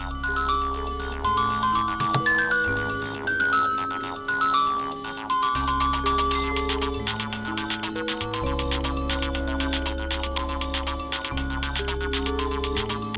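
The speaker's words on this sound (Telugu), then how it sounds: "మమ్మీకి ఫోన్ చేద్దాం, మమ్మీతో మాట్లాడదాం" A telephone ring tone sounds during a call, carried in loud, layered melodic music that plays continuously with a steady beat throughout, no one speaking over it.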